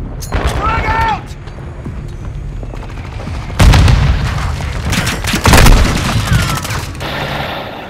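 Frag grenade blasts in a Call of Duty firefight: two heavy booms land mid-clip amid rattling gunfire, with shouted voices and radio callouts over the loud battle din.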